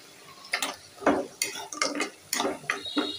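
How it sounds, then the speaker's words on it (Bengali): Spices being stirred and fried in a small wok on a stove, with a spoon scraping and clinking against the pan in short irregular bursts over a faint background. "এই যে চুলার করে মশলা কষিয়ে নিচ্ছি ছোটো কড়াইতে"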